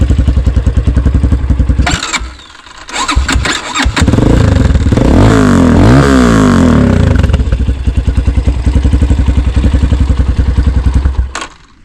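A Shineray VXR 300 motorcycle idles with a lumpy, throaty stock exhaust, then is revved hard several times, roaring up and settling back, loud and close.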